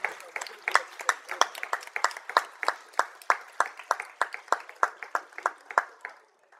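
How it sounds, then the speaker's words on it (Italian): A concert audience claps in a brisk, steady rhythm for the Vincenzo Bellini town band of Sonnino. The applause holds strong and even before breaking off abruptly. "qui l'applauso ci deve stare di tutto"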